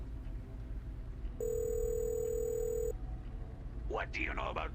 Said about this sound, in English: Let's see who's on the phone tonight.